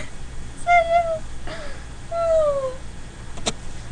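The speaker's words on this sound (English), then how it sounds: "The cat." A cat meows several times, with a two-part call followed by a longer drawn-out meow, near and clear over a low background hum.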